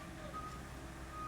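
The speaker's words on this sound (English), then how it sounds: "I think that's a garbage truck." A garbage truck's reversing alarm beeps steadily at a distance, faint beneath a low rumbling background.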